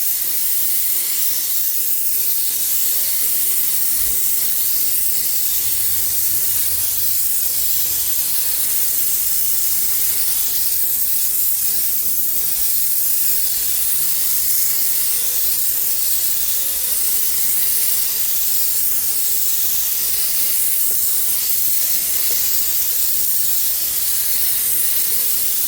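Steady airbrush-style spray hissing as paint is sprayed onto a car's cracked leather interior upholstery, continuous and close for the whole stretch, with no talking.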